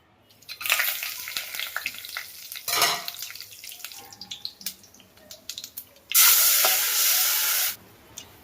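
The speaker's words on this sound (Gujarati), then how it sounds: "એક ચમચ તેલ નાખી દઈએ બાફેલા વાલનો વઘાર મારી દઈએ છીએ" Boiled val beans go into hot oil for tempering, bursting into a loud spattering sizzle in short surges, then a long intense hiss near the end, with clinks and stirring between them, close and without speech.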